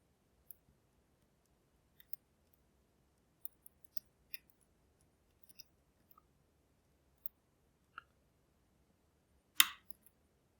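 Sparse, sharp clicks of mechanical keyboard keys built from construction keys, scattered irregularly at close range in a quiet room, ending with one louder, longer clack near the end.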